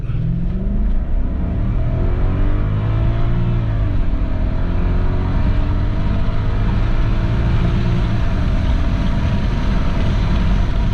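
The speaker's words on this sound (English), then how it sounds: "First gear, sport mode, flat out." Audi S6 C5 accelerating flat out in first gear in sport mode, with a loud, steady engine roar climbing in pitch throughout, heard from inside the car with some wind noise.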